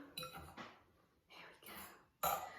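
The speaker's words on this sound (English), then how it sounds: "I'm going to hit the bottom of the bowl to make sure it's all out." Several sharp clinks and taps against a bowl, spaced irregularly, close and fairly quiet, ending with one brighter knock.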